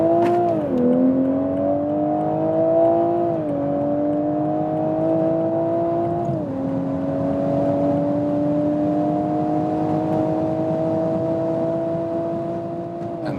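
A Toyota Supra accelerates hard from 60 km/h, its engine note climbing steadily with brief dips at gear changes, heard loud and continuous from inside the car with no talking.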